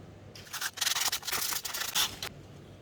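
A wooden photo frame being sanded by hand: about two seconds of close, raspy back-and-forth rubbing strokes in a quiet room.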